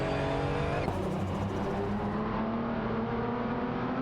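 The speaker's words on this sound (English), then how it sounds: "let's enjoy some thrilling AI race car action together" AI-driven race cars lapping Imola in a retro racing video game, a dense, continuous high-pitched engine roar at steady loudness, with layered motors and a brief sharp change near the start, no voices.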